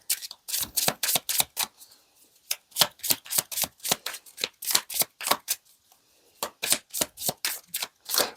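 Tarot cards being shuffled in a series of quick, crisp riffling bursts with short pauses between them, close and fairly loud, with no voices over them.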